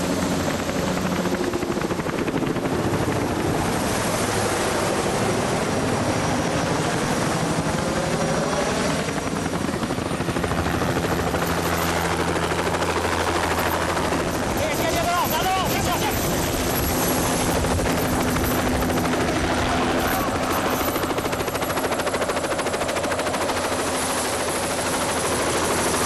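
A helicopter hovers close by during a jungle hostage extraction, its rotor thudding loudly and continuously while voices call out beneath the din.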